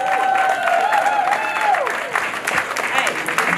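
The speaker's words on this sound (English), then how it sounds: "give Revlon a round of applause" Crowd applause and cheering at a vogue ball in San Francisco, a steady wash of clapping filling the room while a voice speaks over it.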